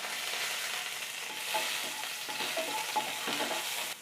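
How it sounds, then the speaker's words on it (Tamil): Mustard seeds and green chillies fry in hot oil for a stuffed masala idli tempering, a steady close sizzle with scattered crackling pops and stirring scrapes throughout, no voices. "கடுகு பொரிஞ்சதும் குட்டி குட்டியாக கட் பண்ண பச்சை மிளகாய்,"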